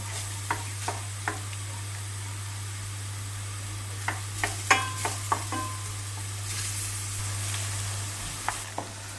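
Steady sizzling of onions sautéing in a pan before minced meat goes in, a continuous hiss with scattered crackles and pops.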